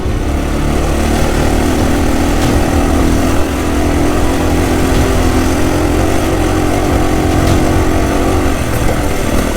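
Enduro motorcycle engine held hard in third gear on a climbing dirt track in Cambodia, a continuous loud buzzing drone with slight wavering, heard up close from the rider's position with wind rush.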